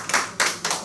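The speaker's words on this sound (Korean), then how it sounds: "박수 한번 보내주세요." Three distinct hand claps ring out in even rhythm from an audience at a Korean cooperative meeting on job creation, close and crisp, with no talk over them.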